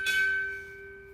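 A ship's bell rings out once with a clear, sustained metallic tone that slowly decays, struck at a Navy chief petty officer pinning ceremony in a quiet hall.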